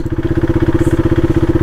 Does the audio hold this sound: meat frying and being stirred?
no